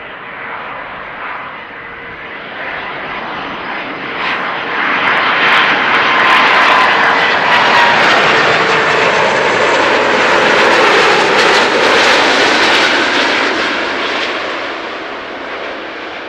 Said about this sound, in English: You don't often see A330s make a hard landing.